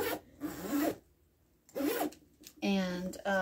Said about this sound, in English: it has this great zipper